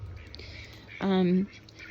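A duck gives a single loud, nasal quack at a backyard coop, close by, over a faint ambient background with no talking.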